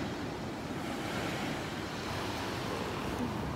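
Surf washes onto a beach in the Maldives, a steady, broadband roar of breaking waves with some wind buffeting the microphone, continuous and fairly close.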